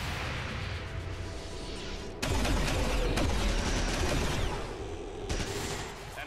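Gunfire in the video game XCOM 2 crackles in dense, overlapping bursts with a sharp loud onset midway, sustained volleys over several seconds and a fresh burst near the end.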